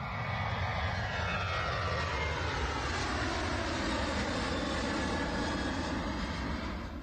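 An airplane attempts to land at a fog-bound runway, its engine roar steady and broad, a continuous distant-to-moderate drone with a slowly shifting pitch and no voices.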